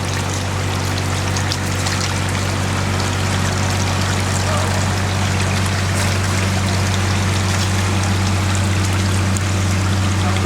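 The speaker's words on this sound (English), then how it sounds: "here we're just shutting down, trickling some of the water and cleaning up the mats" Water trickles and rushes steadily through a gold concentrating machine during shutdown while its mats are cleaned, a constant close wash with a low mechanical hum underneath, and no talk.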